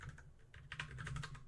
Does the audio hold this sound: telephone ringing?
no